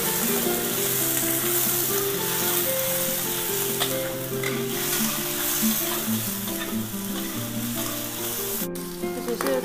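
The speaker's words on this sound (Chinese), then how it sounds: "姜丝蒜泥炒香，把鱼皮倒下来翻炒一下" Shark skin stir-fried with ginger and garlic in a wok, a steady loud sizzle running throughout with scraping stir strokes, no voices.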